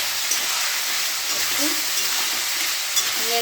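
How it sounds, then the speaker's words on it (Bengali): Tomatoes and potatoes fry in a pan with salt and turmeric, making a continuous bright, hissing sizzle that stays close and even throughout, with a few faint stirring sounds and a little low background speech. "টমেটো দিয়ে দিয়েছি একটু লাল লাল করে ভেজে নেব"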